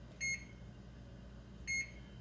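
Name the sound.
oven timer beeping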